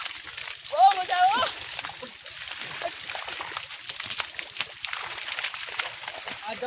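Water splashes and sloshes as someone bathes, with voices and a high squeal mixed in over the continuous wet spattering.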